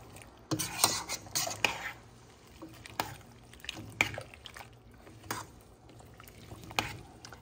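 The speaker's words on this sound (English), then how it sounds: "Stir them in." Sliced peppers stirred in a pot for waterbath-canned cowboy candy, a spoon clinking against metal in several distinct knocks and scrapes over a wet, syrupy stir, close and without talk.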